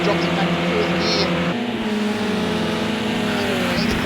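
A BTCC race car at Snetterton drops down to fourth gear, its loud, close engine drone shifting pitch abruptly partway through and then holding steady.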